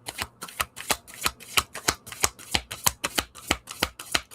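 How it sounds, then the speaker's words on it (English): Tarot cards are riffled over and over in quick, even strokes. The close, papery flutters come in a regular beat, around three each second, and no one speaks. "As I'm shuffling this deck"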